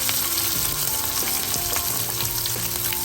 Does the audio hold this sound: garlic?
yes